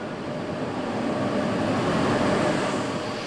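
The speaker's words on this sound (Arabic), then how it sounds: "قطار البراق فائق السرعه" Al Boraq high-speed train in Morocco, a steady loud rushing roar of rail travel with constant rumble, heard from on board or close by with no voices.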